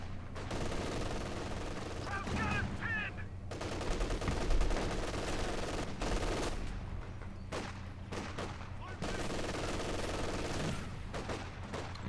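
An MG42 machine gun fires in a Company of Heroes 2 match as it guards a munitions point, heard as repeated rapid bursts among other battle gunfire and booms, under continuous commentary.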